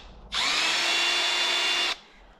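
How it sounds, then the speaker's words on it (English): Power drill bores out a pin hole in a Dodge Ram TIPM circuit board, one loud steady whine of about a second and a half with a clean start and stop, alone and close. "I'm going to have to drill this one out."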